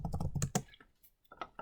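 A computer keyboard is tapped to type out a name, a quick run of close, crisp keystrokes followed by a short pause and a few more clacks.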